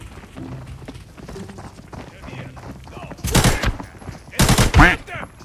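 Two loud bursts of video game gunfire in a farmland combat zone as an enemy is taken down with a headshot, the second burst strongest, following quieter game ambience with footsteps and chatter in the background.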